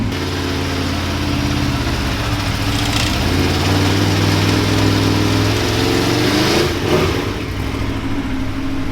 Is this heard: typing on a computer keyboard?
no